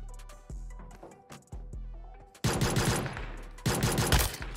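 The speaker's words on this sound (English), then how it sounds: "I shot in single too." Single-fire gunshots in PUBG Mobile, likely from a pistol: several sharp separate shots with echoing tails, spaced irregularly, followed by two louder, denser bursts of fire near the end.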